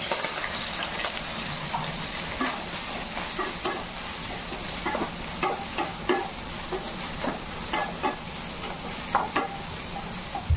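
Soybean chunks frying in oil in a home kitchen, a continuous loud sizzle with repeated scraping stirs at an irregular rhythm, close up, no talking.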